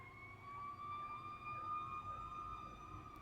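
Outside a home with extra-thick windows, an emergency vehicle siren wails steadily in rising and falling sweeps, faint and distant.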